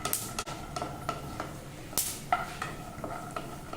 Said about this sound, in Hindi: फ्लेम मीडियम रखे हैं, मूंगफली को अच्छे से फ्राई कर लेंगे।